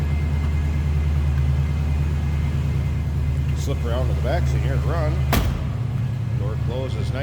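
A 1967 Mercury Cougar XR7 hardtop idles with a steady, deep low rumble, and a sharp thud near the end; someone talks over the engine in the latter half.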